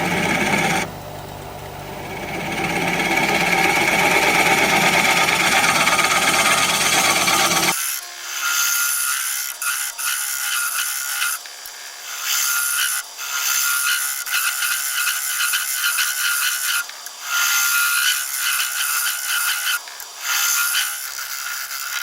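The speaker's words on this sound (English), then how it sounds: "I'm going to sharpen up my scraper and we'll scrape." Hand scraper working a spinning plum wood bowl on a lathe, a steady loud rasping scrape that runs continuously, then breaks into shorter scraping passes with brief pauses.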